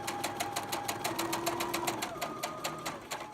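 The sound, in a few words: sewing machine stitching quilt seams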